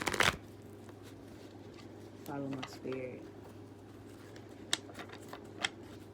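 Tarot cards shuffled by an intuitive tarot reader, a few brief crisp riffling bursts near the microphone, separated by pauses and soft scattered taps, with no talking over them.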